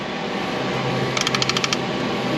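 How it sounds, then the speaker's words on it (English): A 1/2-inch drive ratchet works a bolt on a Ford F-150 5.4, giving a quick run of about eight sharp metallic clicks over low background noise. "coming in with the 1/2-inch drive ratchet."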